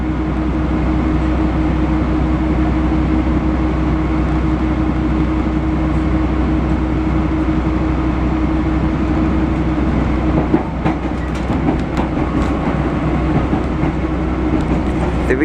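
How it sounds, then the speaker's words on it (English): A London Underground Central Line 1995 stock train runs past with a loud, steady rumble and low hum, and rhythmic clicks and rattles come through toward the end. "So this is some Central Line trains."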